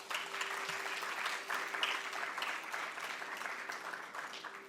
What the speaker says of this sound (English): I think he deserves a big round of applause for that